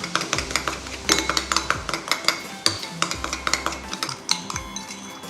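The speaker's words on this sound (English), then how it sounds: "So we'll just go ahead and stir this together." A homemade blackhead and whitehead skin remedy stirred in a bowl, a spoon clicking and scraping rapidly and steadily against the sides, close and distinct, with a low hum underneath.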